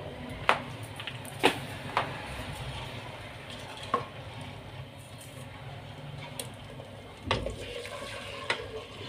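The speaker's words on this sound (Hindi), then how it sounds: "अब इसमें हम चिकन डाल देते हैं।" Chicken legs go into fried masala in a pan for leg biryani and sizzle steadily, with a few sharp clinks and scrapes of stirring close by.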